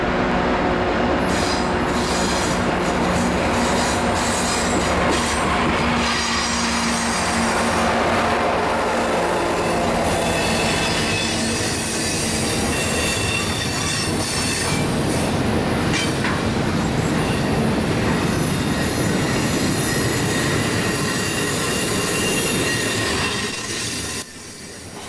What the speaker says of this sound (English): This manifest is the Canadian Pacific Train 458, the precursor to the 11R